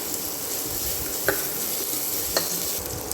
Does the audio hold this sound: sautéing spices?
yes